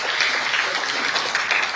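An audience at a tennis club's centenary launch celebration gives a steady round of applause, dense clapping from a crowd heard throughout at moderate loudness.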